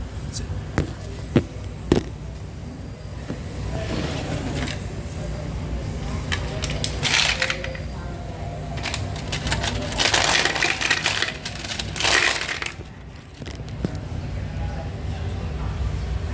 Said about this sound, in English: putting the coins into a bag and then pouring the bag onto the container